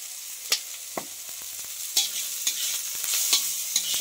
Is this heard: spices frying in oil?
yes